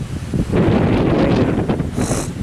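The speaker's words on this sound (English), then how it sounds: "Oh man, it's windy out here." Strong outdoor wind gusts buffet the microphone ahead of an approaching storm, a dense, rough roar that surges and eases over a couple of seconds.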